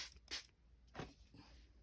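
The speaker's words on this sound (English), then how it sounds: "We are going to spray this with some little bit of water." Water misted from a spray bottle onto stamped paper for a Christmas ornament craft, three short faint hissing bursts, close by, with no talking.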